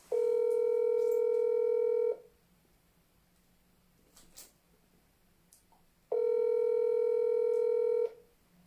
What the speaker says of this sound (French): Je vais rappeler la personne.